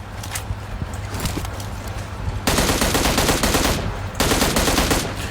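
Automatic M16 rifle fire in the video game PUBG, fitted without the heavy stock: loud, continuous rapid bursts of gunfire over a steady game background, growing denser midway with a brief pause before resuming.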